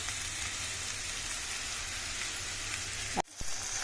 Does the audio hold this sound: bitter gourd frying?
yes